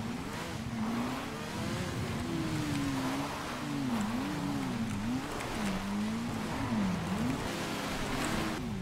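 A motorcycle engine hums steadily through the ride in a video game. Its pitch rises and falls in waves as the bike moves, and it stays fairly quiet and continuous without any talking.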